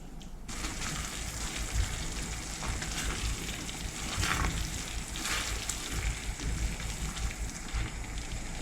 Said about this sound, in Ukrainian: І далі протушкую декілька хвилин.